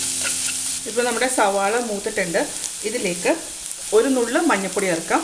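Onions sizzle softly in a pan as they are sautéed for a chicken filling, a low steady frying hiss beneath someone talking throughout.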